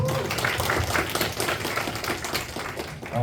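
At a conference, an audience gives a short burst of clapping for an introduced vice president, with the applause moderately close and continuous.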